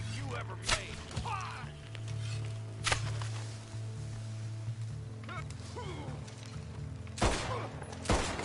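Gunfire in the video game Red Dead Online: several sharp, isolated shots crack out at irregular intervals over a low, steady in-game background hum.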